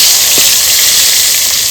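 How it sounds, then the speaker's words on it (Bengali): Pointed gourd coated in salt and turmeric sizzles in hot oil in a wok, a steady, close, unbroken frying hiss with no voices. "পটলটা ভাজা হয়ে গেছে"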